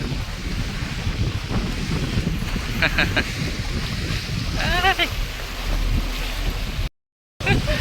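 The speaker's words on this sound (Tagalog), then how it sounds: "Ngayon ulit ako makakasakay ng boat." A boat ride on open water, with steady wind rush and engine and water noise close to the microphone, a few brief voices and chirpy sounds over it, and a short dropout near the end.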